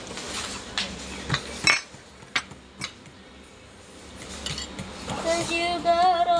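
Egg is mixed for banana cake batter in a bowl, the spoon or utensil clinking and scraping against it in short irregular strokes, close and fairly loud, followed by a stretch of steadier stirring and a brief background voice.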